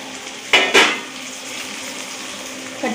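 Ginger-garlic paste with onion sautéing in a pan for mutton biryani made with seeraga samba rice, giving a steady close sizzle with two brief bursts of utensil clatter from stirring.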